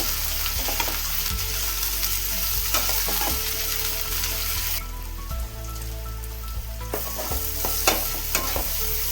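Onions browning in a hot pan for a Maharashtrian mutton rassa, a steady close sizzle and crackle of frying with occasional stirring scrapes throughout, no voices.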